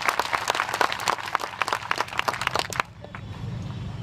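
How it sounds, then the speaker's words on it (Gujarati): A crowd at a rally honouring Bhim soldiers breaks into loud, dense applause that lasts nearly three seconds and then drops away to a low murmur of crowd noise. "સૌથી પહેલા ભીમ સૈનિકો માટે એક તાળી"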